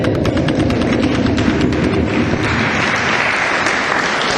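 Church congregation applauding during a sermon, dense close clapping that fills the space and continues steadily throughout.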